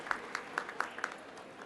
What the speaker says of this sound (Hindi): जोरदार तालियों के बीच अभिनंदन कीजिए